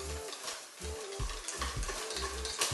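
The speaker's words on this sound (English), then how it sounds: "we're going to whisk it together to create a beautiful smooth batter" A whisk beats flour batter for crayfish in a bowl, making rhythmic repeated swishes and soft taps at a close, moderate level.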